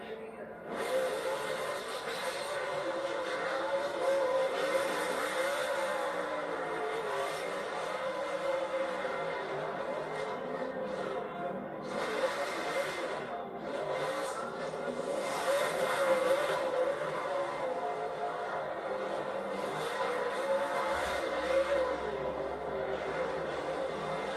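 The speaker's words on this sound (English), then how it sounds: "Backwards pace lap. Victory lap." NASCAR stock car at Darlington Raceway for the Southern 500, running a backwards victory lap: a steady, loud engine drone with crowd and track noise over the full stretch, and a voice talking over it.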